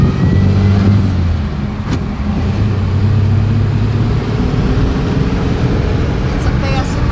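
A 1936 Bentley Thrupp & Maberly car under way, its engine giving a steady loud drone with mild rises in pitch as it accelerates, heard from inside the cabin with road noise.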